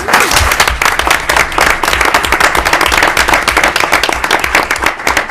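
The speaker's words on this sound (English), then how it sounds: "you deserve a huge round of applause" Loud, sustained applause from an audience at a school committee meeting, honouring a robotics team: dense continuous clapping with no pause, close and full throughout.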